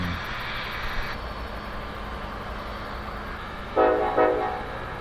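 Union Pacific Big Boy 4014 steam locomotive standing with a steady low rumble and hiss, then a loud tonal whistle blast sounding twice near the end, heard from close by without talk.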